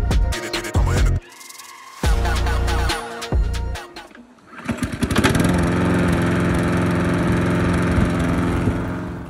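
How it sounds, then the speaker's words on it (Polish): A restored old lawn mower's small petrol engine sputters and catches after a few rough starts, then settles into a loud, steady close-up running drone with a buzzing rattle. "Kosiarka chodzi, pali na dotyk, nie ma problemu."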